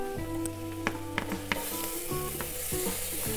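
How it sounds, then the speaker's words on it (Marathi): Chopped tomatoes are stirred into sautéed onions and garlic in a hot pan for tomato soup, giving a close, steady sizzle with scraping spoon strokes and no talk. "आता जे काही आपले टोमॅटोज होते हे आपण याच्यामध्ये आता मिक्स करूयात."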